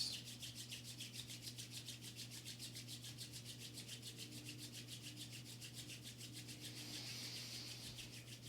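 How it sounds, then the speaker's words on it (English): Palms rubbing briskly together in a steady, fast back-and-forth rhythm, a soft close swishing that continues evenly throughout with no talk. "Beautiful little rub of the palms."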